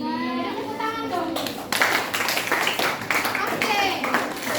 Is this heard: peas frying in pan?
no